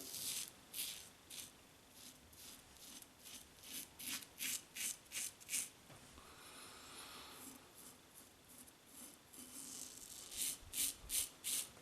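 Straight razor scraping through stubble, a series of short rhythmic rasping strokes, close and crisp, in bursts with brief pauses between passes.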